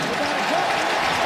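Stadium crowd at a 2014 Raiders versus 49ers NFL football game in Oakland, a dense steady roar of many voices that fills the whole short stretch without a break.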